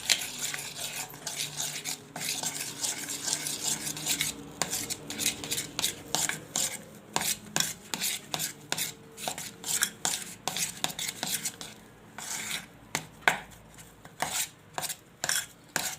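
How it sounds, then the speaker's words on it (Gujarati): Bajra flour and rice flour being mixed in a bowl, with repeated scraping and tapping strokes of a spoon in an irregular rhythm, close and fairly quiet. "હવે એને આપણે મિક્સ કરી લઈશું"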